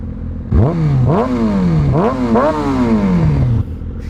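A motorcycle engine is blipped several times while stationary, each rev rising sharply and falling back. Four loud, close revs come in quick succession, the last one sustained longer before dropping to idle.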